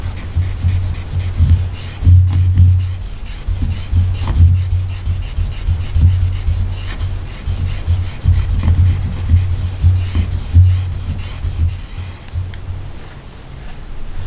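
Fingerstones rub back and forth over a single bevel knife blade with polishing mud, a steady close gritty scrubbing in repeated strokes with a low hum underneath, continuing at length without talk.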